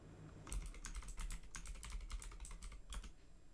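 Close, quiet clatter of fingers typing on a computer keyboard, a quick irregular run of distinct key taps with small pauses, no voices.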